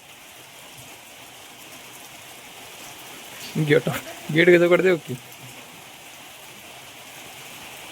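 Heavy rain pours down in a steady, even hiss throughout, with a short burst of people talking partway through.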